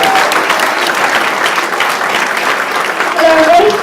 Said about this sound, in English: So if you can give a massive round of applause for Lewis, the next Steve Ryder.